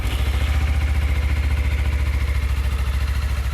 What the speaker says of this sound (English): I'll give it a whirl over so you can hear the engine